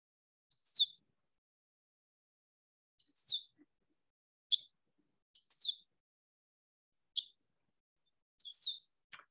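A recorded sparrow-family bird call repeats about seven times, short high chirps spaced a second or so apart against clean silence.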